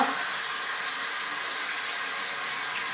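Warm water runs steadily from a bathroom sink tap over fingers, a continuous close hiss of flowing water with no voices.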